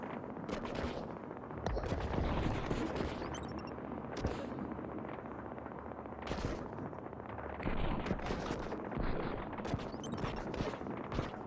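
Turret gun shots in Utopia Must Fall, dense repeated blasts over a loud continuous rumble of game noise, steady and busy throughout.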